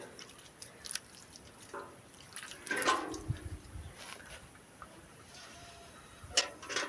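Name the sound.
water poured to cool soldered aluminium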